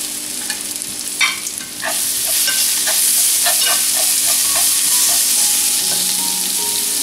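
Scallions and garlic stir-frying in a hot wok for lamb, a loud steady sizzle that swells after a brief quieter start, with scattered clicks of stirring throughout.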